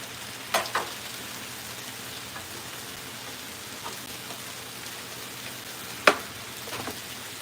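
Steaks frying on a Blackstone griddle, a steady close sizzle throughout, punctuated by a few sharp pops and clicks from the cooktop.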